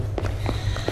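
Quick footfalls in the horror game Slender Man Arrival: four or five muffled steps in brisk succession over a low humming background.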